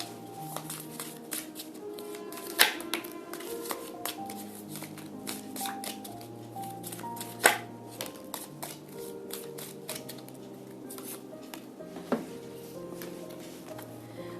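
Tarot cards shuffled by hand during a reading, soft riffling and sliding with occasional sharper snaps of cards against each other, steady and close, with no talk.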